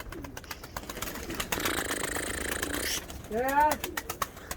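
Pigeons coo softly close by, with a burst of wing flapping in the middle and soft bird calls toward the end.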